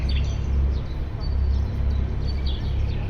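Small birds chirp in scattered short high calls across the grounds of Istanbul's marble Beylerbeyi Palace, distant and faint against a constant low outdoor rumble.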